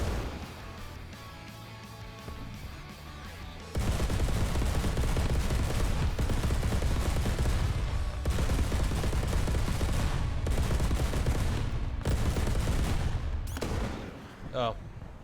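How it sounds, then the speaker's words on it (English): Gunfire and explosions from a Dardo infantry fighting vehicle launching an anti-tank guided missile in the War Thunder game, with a quieter opening that jumps to loud, dense, sustained blasts and rumble, then dropping to a short lull near the end. "I really like the sound that this thing produces when firing the ATGM."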